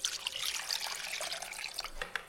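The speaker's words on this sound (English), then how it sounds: "Why are you putting water in paint?" Water poured into a container of paint to thin a mist coat for fresh plaster, a steady close splashing trickle that runs throughout without any talk.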